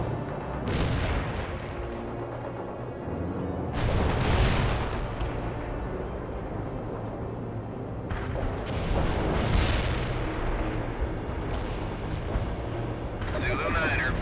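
Artillery barrage in the real-time strategy game World in Conflict, several heavy booms spaced seconds apart with rumbling tails, under ongoing battle noise and faint radio chatter.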